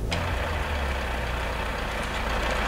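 Truck engine idling in Euro Truck Simulator, a steady low diesel rumble at moderate level, heard alone without talk.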